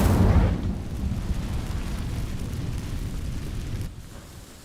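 An Incendio fire spell bursts into flame on dry vines in Hogwarts Legacy, opening with a loud whooshing blast that settles into a steady crackling roar of burning before fading near the end.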